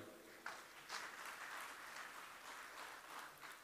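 Applause for President Joko Widodo at an Indonesian speech, a fairly faint, steady wash of crowd clapping that carries evenly through the short span with no voices over it.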